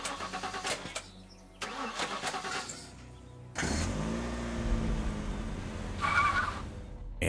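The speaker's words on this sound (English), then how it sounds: "Hold F to start the car." A car engine cranks and catches in the survival game The Last Stand: Aftermath, then settles into a steady mid-pitched idle with a rising rev, loud and close, with no talk over it.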